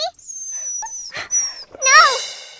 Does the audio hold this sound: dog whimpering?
yes